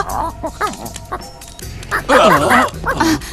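A cartoon dog barks and yips in an animated episode, a run of close, loud barks, whimpers and yelps in quick succession.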